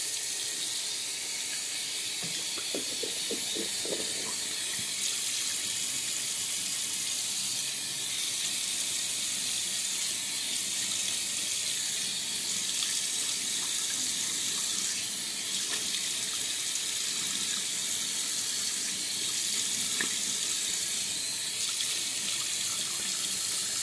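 Tap water runs in a steady, close hiss from a faucet into a sink while a shaving brush is soaked and rinsed, with faint splashes and no talking.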